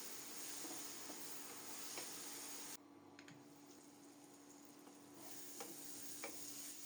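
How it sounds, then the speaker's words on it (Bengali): Spice paste frying in a covered pan over low heat while being stirred, a soft steady sizzle and hiss with occasional scraping stir sounds, quiet and close, no voices. "চুলার তাপটা কমিয়ে ঢেকে ঢেকে খুব সুন্দর মতো মশলাটাকে কষিয়ে নেব"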